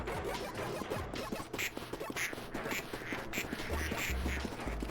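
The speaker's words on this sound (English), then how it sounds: "there's so many ducks out here, this is crazy" Ducks quack repeatedly in Project P.I.T.T., a string of sharp, nasal calls at irregular intervals over a busy background of scratchy clatter and rustling, with no talking.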